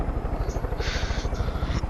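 A helicopter in the Far Cry 5 video game, its rotor thumping in a fast steady pulse under a loud engine whine, close and constant throughout.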